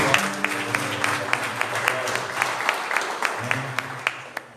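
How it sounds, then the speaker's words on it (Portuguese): A church congregation claps in praise of Jesus, a dense wash of applause with a few sharper claps, while voices sound underneath. "Eu vou de palmas em nome de Jesus para Ele."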